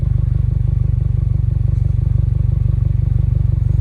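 A motorcycle engine idles with a low, steady, pulsing rumble, close by and uninterrupted.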